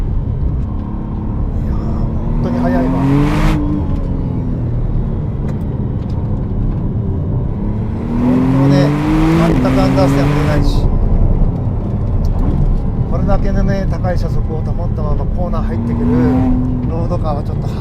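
A 2025 McLaren Artura sports car accelerates hard along a winding road, its engine rumbling steadily inside the cabin with rising and falling surges of revs, while someone talks over it at intervals.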